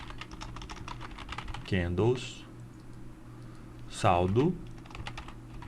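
Computer keyboard typing in quick, light taps runs through the clip under someone speaking Portuguese in two short bursts.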